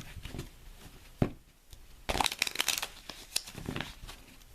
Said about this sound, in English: I'm going to take the deck, I'm going to shuffle the cards.